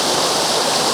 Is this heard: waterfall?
yes